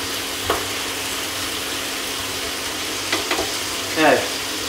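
Silk squash and crispy pork belly stir-fry on high heat in a wok, a steady close sizzle punctuated by a few brief scraping stirs and one louder clatter near the end.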